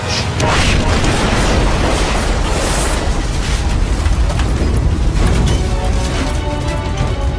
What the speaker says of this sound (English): Seconds later, 3 6-inch shells, possibly from Yamato, smash the bridge.